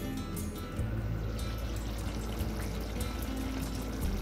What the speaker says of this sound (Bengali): আমি বাটি ধুয়ে একটু জলটা দিয়ে দিলাম